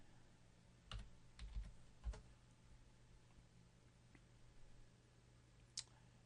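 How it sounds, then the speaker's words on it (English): A computer keyboard clicks as a password is typed, a few faint, scattered keystrokes and clicks in a quiet room. "Type in the password."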